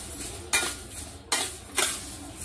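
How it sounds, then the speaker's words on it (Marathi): Pulses and poha dry roasting in a pan for thalipeeth flour, heard as three sharp scraping stirs spaced about a second apart over a quiet background, with no talk. "आता आपण हे सगळं भाजून घेऊया"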